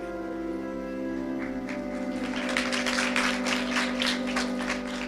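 An audience claps at a Hindi religious discourse, with scattered clapping swelling midway over a sustained tonal drone and no speech.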